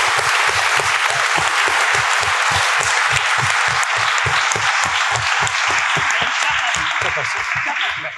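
A literary prize event audience claps in a loud, dense, steady round of applause, hands beating rapidly and close for the full stretch before tapering slightly at the end.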